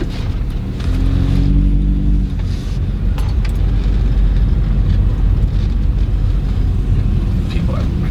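A custom stanced Honda CR-V with one-off bumpers rolls up and stops, its engine a loud, steady low rumble close by throughout, with a brief hum near the start.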